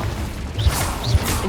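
Confringo blast spells in the video game Hogwarts Legacy, two short explosive thumps with whooshing bursts about half a second apart, over continuous game background noise.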